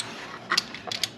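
A wrench ratchets as it tightens the thermostat housing bolts on a G35 or 350Z, giving a few short, close, clicking bursts over a steady background hiss.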